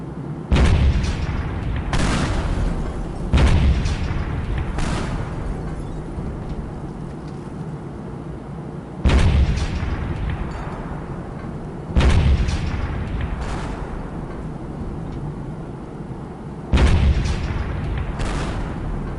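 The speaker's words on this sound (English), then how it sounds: "Airstrike on the ISS." Heavy airstrike explosions pound the International Space Station in the Teardown video game, five or six loud booming blasts arriving at irregular intervals, each with a sharp onset and a long rumbling decay.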